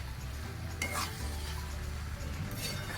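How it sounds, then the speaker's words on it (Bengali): Roasted semolina being stirred in a pan while making spicy upma, a steady close scraping and soft sizzle with a couple of brighter bursts of stirring, no voices. "দিয়ে একটু ভালো করে নেড়ে নেব, 1 মিনিটের মতো একটু নেড়ে নেব"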